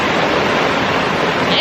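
Steady roar of cascading water from the Fiji waterfalls at Sekumpul in the Bali jungle, a loud, continuous broadband rush that fills the whole clip without pause.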